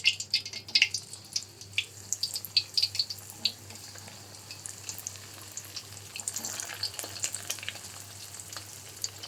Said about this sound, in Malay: goreng sehingga garing dan bolehlah diangkat